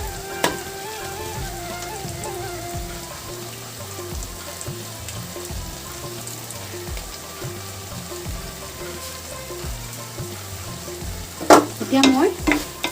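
Bamboo shoot and pre-fried fish head sizzle in a pan as they are stirred, a steady frying hiss with rhythmic scraping strokes and a louder clatter near the end.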